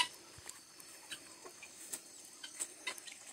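Farm poultry on a rural homestead cluck faintly and sporadically at a distance, scattered soft calls over a quiet outdoor background.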